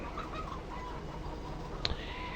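Chickens cluck softly over a steady background hum in the video game Farming Simulator 15, with one brief sharper squawk near the end.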